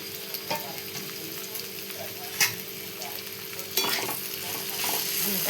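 Chopped eggplant with spices is mixed in a hot pan, giving a steady close sizzle with repeated scraping stir strokes and a couple of sharper knocks of the utensil, no voices.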